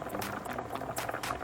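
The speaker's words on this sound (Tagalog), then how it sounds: "Kulo na." Water boils at a steady rolling bubble in a pot of potatoes on the stove, a close, continuous burbling hiss with no talk over it.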